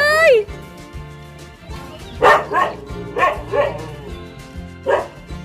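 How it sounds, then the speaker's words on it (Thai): A dog barks in several sharp bursts at a durian seedling nursery, fairly close and loud, with a brief high whine at the start and someone talking in between. "มังคุดจะเห่าทำไมเล่า"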